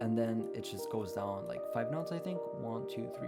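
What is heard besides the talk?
No everyday noises stand out.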